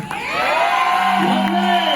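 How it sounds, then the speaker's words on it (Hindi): Crowd at a film trailer launch erupts in loud whistling and cheering, with sharp rising whistles and shouts layered close together in a brief, intense burst. "इनको याद रहनी चाहिए ये तालियां और सीटियां"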